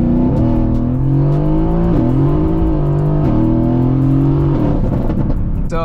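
A 670-horsepower Mercedes-AMG GT S launches hard on a wet road with cold tires, its engine roaring loud and close and climbing in pitch through several quick gear shifts.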